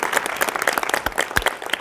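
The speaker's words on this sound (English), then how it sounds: "Oh, you don't need to clap." An audience claps loudly in a quick, dense burst of applause at a talk given by the chairman of QuikTrip, lasting under two seconds with no other sound over it.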